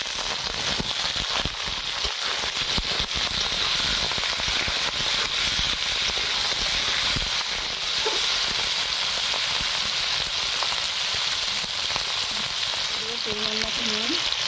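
Potatoes fry in hot oil in a pan over lightly fried onions, giving a loud, continuous crackling sizzle up close with occasional stirring, no speech.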